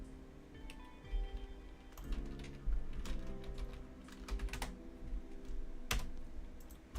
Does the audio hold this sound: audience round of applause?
no